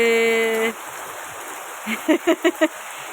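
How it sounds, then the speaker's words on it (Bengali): Rain falls in a steady, soft hiss after a brief tone fades out, with a few short vocal bursts near the end over the wash of rain. "আবারও বৃষ্টি শুরু হয়েছে"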